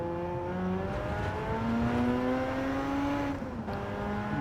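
In Gran Turismo 7, a car engine revs up steadily through the gears at high RPM, its pitch climbing and then dropping briefly at a shift, with no talk.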